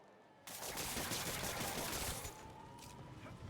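Gunfire in Marvel's Spider-Man plays as a dense, sustained burst of rapid shots for about two seconds, loud and continuous, then drops back to quieter background noise.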